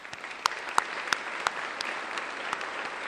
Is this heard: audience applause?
yes